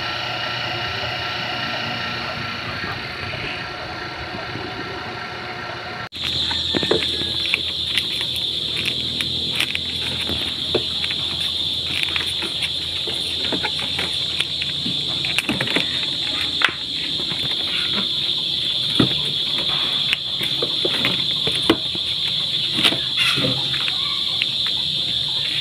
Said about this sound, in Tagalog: Umikot na yung motor natin. At napakatulin yung ikot niya. At walang ingay.